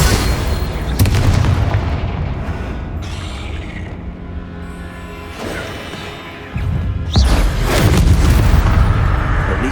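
A Confringo spell explodes in the video game Hogwarts Legacy with loud, booming blasts and crashing debris. One burst comes early, a rumbling lull follows, and a second heavy blast hits near the end.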